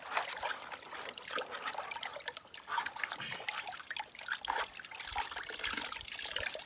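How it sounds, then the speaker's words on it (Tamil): Water trickles and splashes unevenly as rabbit meat is rinsed outdoors in a village kitchen, a close, irregular flow with small bursts and drips. "இன்னொரு தடவை கூட கழுவிக்கலாம்."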